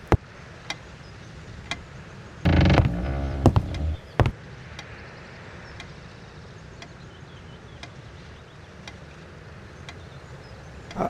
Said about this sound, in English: just more creaky floor